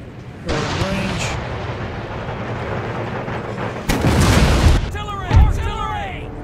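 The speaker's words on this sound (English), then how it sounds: "Artillery! Artillery!" Booming artillery salvos in the strategy game Empire: Total War, Thirteen Colonies campaign, with several heavy blasts rolling over continuous battlefield din and a raised voice shouting over the noise.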